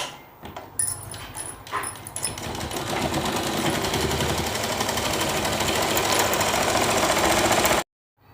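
A sewing machine stitches a four-panel petticoat in a steady, close mechanical whir with rapid needle chatter, starting in short bursts and then running continuously before stopping abruptly.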